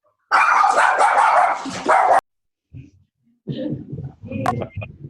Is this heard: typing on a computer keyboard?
no